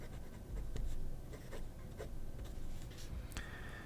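Steady scratchy scraping of a fine steel Schmidt nib on a fountain pen gliding across paper, close and quiet, in continuous strokes with brief lifts and a few sharper taps between words.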